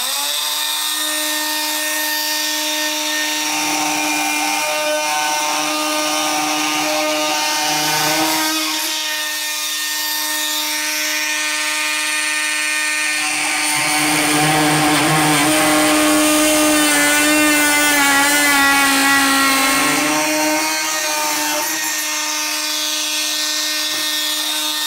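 A Fein MultiTalent oscillating multitool cuts through 4 cm thick oak with a loud, continuous high buzzing whine that rises and falls in pitch as the blade bites and eases, alone with no talk.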